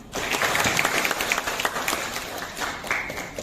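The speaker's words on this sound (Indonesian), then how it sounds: "Boleh kita kasih tepuk tangan." A classroom of students claps together after the teacher's request, a dense burst of applause lasting a few seconds at moderate volume with faint voices beneath.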